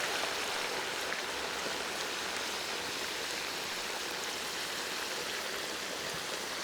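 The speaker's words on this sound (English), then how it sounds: "In the peanut oil we go. Nice and gentle, slow. Make sure you're not gonna boil over." A whole turkey goes into a pot of hot peanut oil for deep frying, giving a steady, dense bubbling hiss that holds at an even level throughout with no voices.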